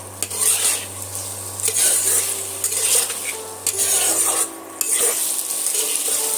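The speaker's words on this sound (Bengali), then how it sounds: "নুনটা দিয়ে আবারও আমি এইভাবে মাখিয়ে নেব আলুর সঙ্গে" Fried potatoes with salt are stirred and mixed in a pan, giving repeated scraping and clinking of a utensil against the metal over a steady low sizzle, close and continuous with a few brief pauses.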